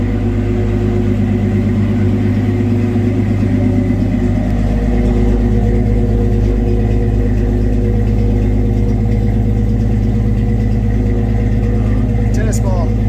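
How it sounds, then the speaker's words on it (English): A 1965 car with a 6-cylinder engine, 3-speed transmission and custom exhaust fires up and settles into a loud, steady low rumbling idle close by, with a rougher surge in the first few seconds. "Did some custom exhaust on it, and I'll fire it up for you. You can kind of listen to it."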